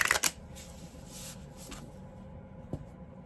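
Someone shuffles a deck of tarot cards nearby in a quiet room, with a quick riffle at the start followed by softer, brief rustles of the cards.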